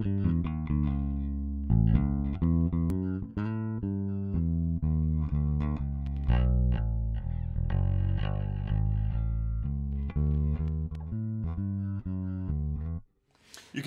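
A distorted, fuzzy bass guitar played through a Valco KGB Fuzz pedal plays a busy run of notes, loud and thick, stopping briefly near the end.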